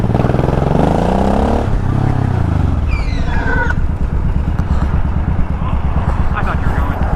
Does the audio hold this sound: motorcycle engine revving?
yes